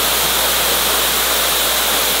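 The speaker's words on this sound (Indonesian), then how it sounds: "ini air terjun keduanya." A waterfall at a campsite in Pupuan rushes in a loud, steady roar of dense broadband noise, close by and unbroken, with no other sounds.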